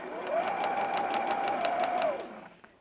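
A sewing machine runs a short back stitch along a quilt block seam, a steady close whirring hum with rapid regular needle ticks lasting about two seconds, then stopping abruptly.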